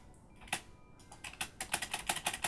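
Computer keyboard keys pressed during a Kerbal Space Program session, a sparse few clicks at first and then a quicker run of sharp, close taps, with no talking.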